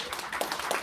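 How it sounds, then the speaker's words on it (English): Wedding guests give the parents a brief round of applause, a scattered patter of hand claps at moderate distance. "they deserve a round of applause at the moment."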